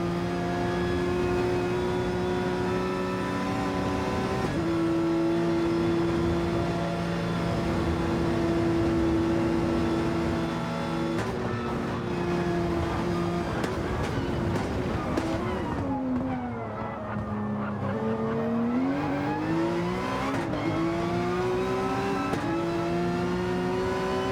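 Video game race cars on the Deep Forest Reverse track, a loud, continuous engine whine holding steady and then sweeping down and up in pitch as they run the straight.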